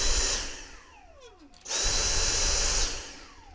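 A Dyson V6 SV03 stick vacuum powered by a replacement Yaber battery pack whirs loudly, winds down with a falling whine, then surges back up to a steady high-pitched roar before easing off again.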